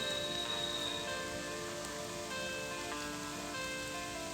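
Steady rain falls on a hill trail during a mountain climb, a dense, even hiss that lasts throughout, with faint sustained tones running beneath it.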